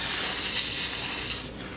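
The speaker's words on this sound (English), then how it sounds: "It's the bacon sizzling." Bacon sizzling and spitting in a hot pan, a loud, steady bright hiss that fades toward the end.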